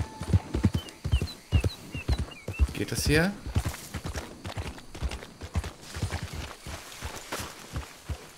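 Horse hooves clip-clopping at a steady walking pace in Red Dead Redemption 2, fairly close and continuous, with a brief whinny partway through and someone talking over the hoofbeats.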